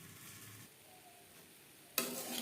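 Onion stalks fry in a pan over medium heat, giving a faint, quiet sizzle before a spatula stir near the end brings a sudden louder scrape and crackle.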